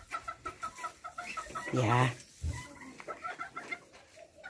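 Hens cluck in a busy series of short, close calls, with one louder drawn-out squawk in the middle and a brief spoken word among them.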